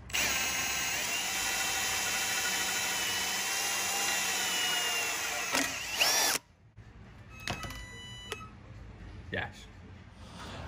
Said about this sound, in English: But I'm pretty sure the end of the crack is going to be there. So that's where I'm going to drill.